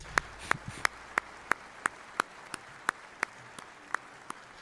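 Slow, evenly spaced single claps at the Republican National Convention, about a dozen sharp hand claps at a steady beat with quiet gaps between them, sounding more like a lone, thin clap track than a full crowd.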